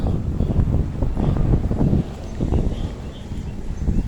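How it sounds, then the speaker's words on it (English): Wind buffets a microphone outdoors, a continuous low rumbling roar with gusty surges throughout. "Sorry if there's wind."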